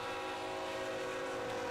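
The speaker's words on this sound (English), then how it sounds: "And a nice long container train." A long northbound container freight train passes trackside, a steady, dense rumble and rail drone that holds without a break, faint overall and with no voices.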